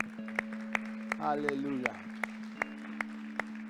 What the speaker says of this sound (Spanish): Damos un aplauso a la palabra de Dios.